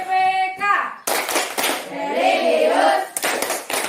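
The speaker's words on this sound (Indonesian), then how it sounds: "Kita lanjutkan dengan tepuk PPK ya." In an Indonesian classroom, a class performs tepuk PPK rhythmic clapping: a few sharp, close group claps are spaced between loud sung and chanted children's voices.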